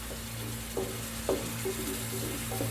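Two eggs half-frying in a meat soup sauce on a lowered stove, a soft continuous sizzle with a couple of faint utensil taps, no speech.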